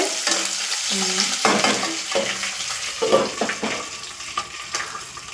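Curry leaves and garlic cloves fry in oil in a pan for a cucumber chutney, with uneven sizzling broken by bursts of stirring and scraping nearby.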